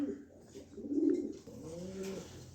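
Two pigeons, a pair offered for sale, coo softly in low, rolling phrases at moderate distance, with a faint background hum and no talking.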